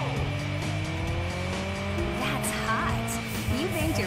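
Tires squeal steadily as a car drifts through a race in the PS2 racing game Juiced 2, with engine whine rising and falling beneath the screech, loud and unbroken throughout.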